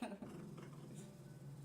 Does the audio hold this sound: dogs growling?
yes